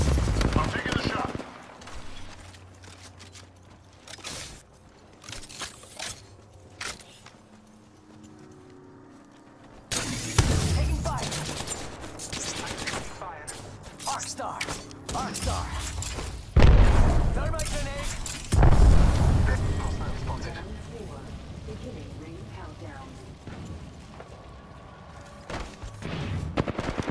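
Gunfire rings out in an Apex Legends match, with loud sharp bursts and booms growing heavier in the second half over constant game noise while a player talks throughout.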